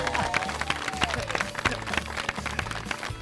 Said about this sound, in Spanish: Un fuerte aplauso para ustedes,